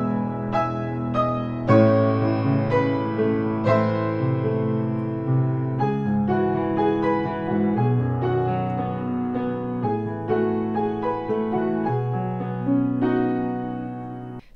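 Piano intro of a song, with arpeggiated chords and low bass notes ringing in a flowing, moderate rhythm, played solo and close without voices.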